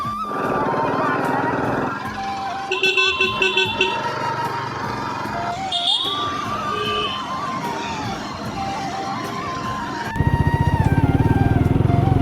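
Motorcycles and traffic near a river ghat crossing, with engines revving and shifting pitch, horns tooting now and then, and a louder rough engine surging near the end, mixed with faint background voices.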